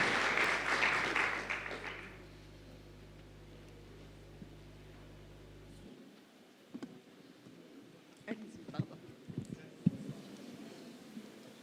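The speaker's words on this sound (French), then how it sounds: "Alors j'appelle l'ESCA École de Management, s'il vous plaît, sous vos applaudissements." An audience at a business-school marketing competition claps for ESCA École de Management; a dense burst of applause fills the first two seconds, then fades into room hum and scattered faint knocks.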